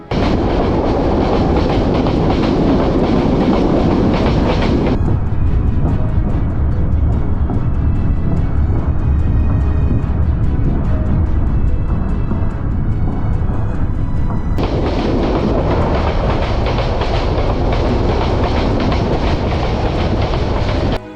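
The Cox's Bazar Express rumbles steadily along the rails with a rhythmic clatter of wheels in light rain, loud and continuous throughout, its tone briefly shifting midway.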